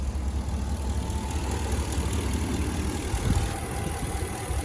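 A 2020 Ram 1500 Laramie 4x4 with a 5.7 liter Hemi V8 idles smoothly and steadily, heard up close as an even low rumble with no talking.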